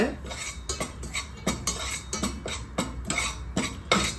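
Wheat flour roasting on a low flame for Ashoka halwa while a metal spoon stirs and scrapes the pan, producing a quick series of sharp clinks and scrapes in an irregular rhythm, close up and loud with no talk.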